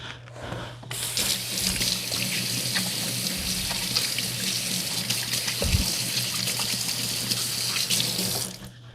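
Hands are washed under a kitchen tap before trussing a roast chicken with twine. The water runs steadily and loudly for about eight seconds, close by, then shuts off, with small splashes as the hands move.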